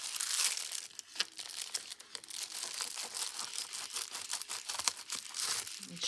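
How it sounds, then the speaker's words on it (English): Scissors cutting through a reused padded envelope produce close, quiet crinkling and crunching, a steady run of papery snips and rustles with no talking. "We're going to go ahead and reuse this padded envelope. This is perfect for this. Cut some of this off."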